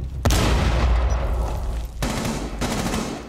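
Rapid gunfire from the video game Rainbow Six Siege, a loud sustained volley that breaks off briefly and then resumes with another burst of shots, close and dominant.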